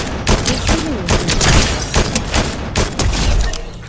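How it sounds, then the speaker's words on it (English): Rapid bursts of gunfire from a video game shooter crackle and boom in dense volleys close up, with faint talk partly beneath them. "He's shooting me."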